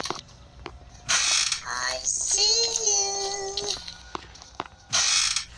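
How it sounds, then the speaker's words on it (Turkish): A door closes in the horror video game Granny 3, giving a creaking, ratcheting mechanical sound with a drawn-out squeal in the middle and a sharp burst at each end. "Kapıyı kapatalım bir."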